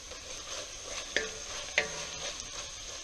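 Sake poured into a hot pan to deglaze it for Brazilian beef stroganoff, giving a steady soft sizzle with two sharper crackling bursts, close and moderately quiet, no talking.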